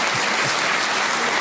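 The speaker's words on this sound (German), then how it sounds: "Er nimmt den Applaus entgegen." Television talk show studio audience claps in a steady, loud, dense burst of applause, many hands together at close range, with a couple of low thumps at the start.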